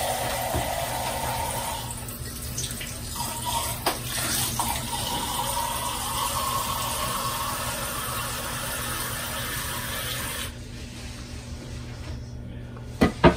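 Steady running water pours into a glass continuously for about ten seconds, then cuts off, leaving a quiet room and a couple of small clinks at the end.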